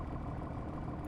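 A John Deere tractor engine in the Farming Simulator video game runs with a loud, steady, rumbling drone that holds constant throughout, with no voices over it.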